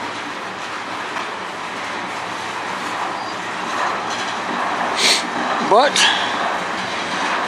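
A slow freight train rolls into the yard in Sarnia, Ontario, giving a steady rumbling drone with faint wheel clatter and a squeal near the end, while a voice speaks briefly over it.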